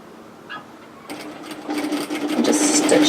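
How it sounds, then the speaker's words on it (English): A sewing machine stitches a side seam on a cowl neck top, starting with a faint tap and then running in a steady, rising whir close up, alone without talk. "So just start directly on that side seam, sew a small back tack"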